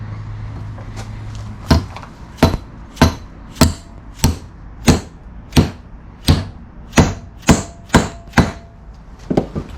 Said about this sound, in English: Tighten it down and go at it with a hammer.